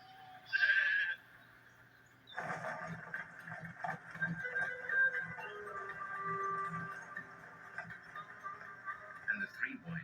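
A sheep bleats once, short and clear near the start, before a broad steady murmur of background noise and faint voices takes over.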